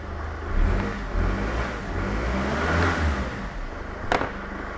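A modern CDI diesel engine fitted into a classic Mercedes campervan, running at a steady idle with a low rumbling drone and slight rises in revs, heard close with no talking.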